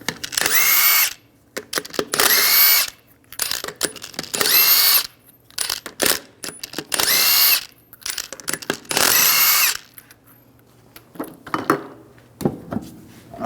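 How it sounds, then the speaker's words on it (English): Impact wrench or drill fitted with a 22mm socket spins lug nuts off the rear wheel of a 2011-2018 Ram 1500, loud and close in five long whirring bursts separated by brief clicks and clanks, with no talking. "We're going to remove the wheel, use a 22mm socket, take the lug nuts off."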